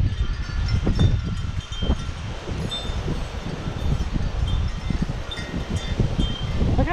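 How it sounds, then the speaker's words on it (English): Strong wind gusts through an outdoor vegetable garden at night, a steady loud rumbling roar with buffeting against the microphone and rustling leaves throughout, no talking. "But my goodness, this wind is just crazy."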